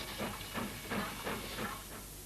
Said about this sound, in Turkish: Isı, suyu buhar haline getirir, buhar gücü tekerleğe bağlı bir pistona hareket kazandırır